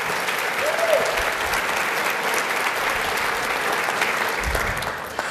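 An audience at Portsmouth, Virginia's 2015 State of the City address applauds, a dense, steady wash of clapping that holds at an even, fairly loud level throughout.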